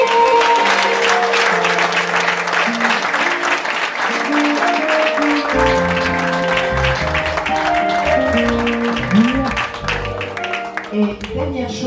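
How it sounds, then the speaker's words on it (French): Congregation applauding itself at an evangelical church consecration service, sustained clapping with sustained musical tones and some voices underneath. "Et j'aimerais qu'on s'applaudisse tous."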